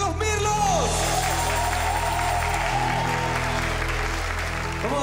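Loud, sustained applause from a large crowd fills the whole stretch, dense and continuous with a few shouts mixed in.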